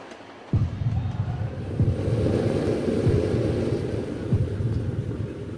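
A Bombay suburban train rumbles along the rails, a loud, sustained low roar with repeated rhythmic clacks of wheels over rail joints, starting abruptly after a brief quieter moment.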